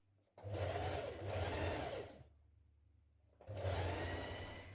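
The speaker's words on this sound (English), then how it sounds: "I'm just doing a single hem on mine, and I'm just using a zigzag stitch." A sewing machine runs a zigzag stitch along a single hem in jersey fabric, two rhythmic bursts of fast mechanical whirring separated by a short pause with a low motor hum, close and clear.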